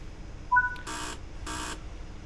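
A ScotRail Class 158 Sprinter door buzzer in a train simulator, two short buzzes a moment apart after a brief tone, over a quiet cab hum.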